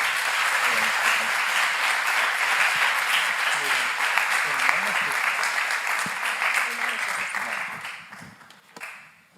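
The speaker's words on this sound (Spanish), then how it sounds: "Os pido un aplauso para él y te cedo la palabra." Sustained audience applause at a talk on art and mental health, loud and dense clapping that holds steady for several seconds, then fades out toward the end.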